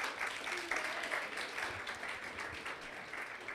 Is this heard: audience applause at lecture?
yes